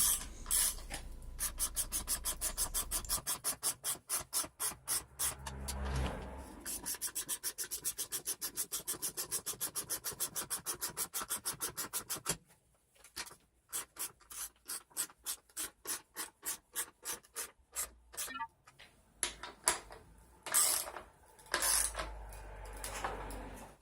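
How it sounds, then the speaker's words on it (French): A wrench tightens lag screws into a garage wall to hold a sturdy shelf, producing a long run of rapid, even ratcheting clicks up close, followed by slower, irregular bursts of turning. "il ne reste plus qu'à serrer les tire-fonds pour que ça tienne"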